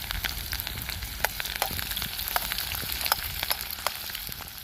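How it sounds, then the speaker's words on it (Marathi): Onion and green chillies fry in plenty of oil in a kadhai, giving a steady hissing sizzle dotted with quick crackles and pops throughout, with no voices. "कांदा मिरच्या टाकून घेतो लगेच"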